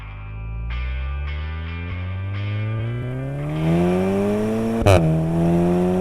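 A Volkswagen Golf 7 R accelerates hard, its engine note climbing through the revs with a gear change, then a sharp burst near the end before it pulls on, loud and close.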